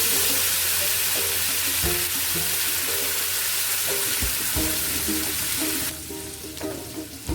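Onion paste fries with whole garam masala in a pan, a steady close sizzle with occasional stirring knocks throughout, easing slightly toward the end.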